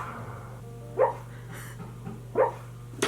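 A sleeping dog barking during a bad dream indoors, giving two short muffled woofs about a second apart and a third starting at the end, against a quiet room hum.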